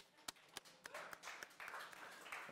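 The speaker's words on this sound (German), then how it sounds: "Ja, Applaus, Philly." Scattered applause from an audience at the German premiere of the Aiways U6ion electric car, soft and fairly quiet, with a few sharper claps standing out.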